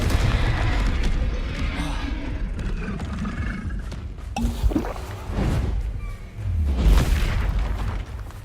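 Confringo blasting spell explosions in the Hogwarts Legacy video game, booming bursts layered among other spell effects, with a prominent blast near the middle and another toward the end over continuous game noise.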